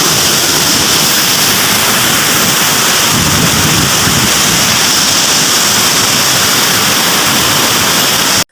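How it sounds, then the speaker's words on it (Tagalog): A strong river rushes loudly and steadily throughout after rain, a dense, close roar with no pauses. "So expected na kaayo nga kusog pod ang tubig diri."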